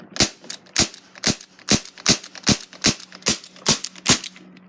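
A CO2 pistol, airsoft-like, fired nine times in a steady run of sharp, snappy pops, each a bright crack with a quick decay, close and fairly loud with no talking between the shots.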